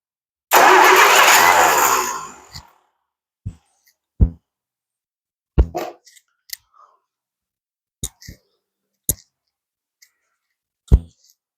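A starter cranks a hot engine with a jerry-rigged throttle, giving a loud rough burst for about two seconds before cutting out, followed by scattered sharp clicks and taps with quiet gaps.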